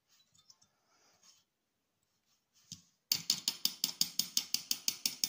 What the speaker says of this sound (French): On va faire bouger un peu sur le côté la lame en la tapant.